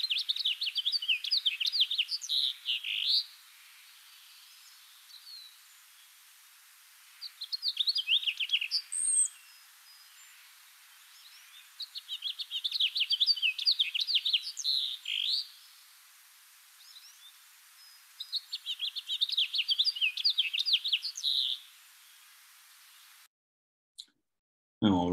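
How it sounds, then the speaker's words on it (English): A House Finch sings four bursts of bright, warbling song, each a few seconds long with short pauses between, clear against a quiet background. "that's the song of House Finch"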